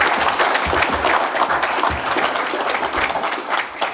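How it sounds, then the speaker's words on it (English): Audience applause at an annual members' meeting, a steady dense clapping filling the room for the full length, fairly loud and without pauses. "give Nikki a round of applause."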